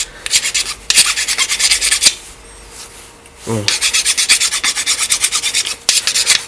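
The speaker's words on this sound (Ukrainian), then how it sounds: "береш нову пилу, береш пильничок і доробляєш чудо пилу" A hand file rasps back and forth on a Grunhelm GS-4500MG chainsaw part in quick, regular strokes, two bursts of steady scraping separated by a brief pause and a clunk.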